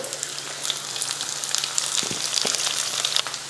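Cabbage added to sautéed onions frying in a pan, a crackling sizzle with quick spattering pops and a few soft knocks, close and steady with no talking.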